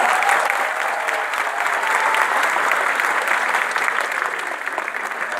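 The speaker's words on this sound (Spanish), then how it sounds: "Dense un fuerte aplauso por estar acá." A crowd claps loudly and continuously, a dense wash of applause that holds steady throughout.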